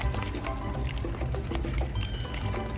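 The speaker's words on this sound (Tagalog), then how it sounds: "Nilagyan ko siya ng konting tubig." Water is poured into a pan of tokwa't baboy, a continuous close splashing gush with a bubbly, liquid texture that runs steadily throughout with no speech.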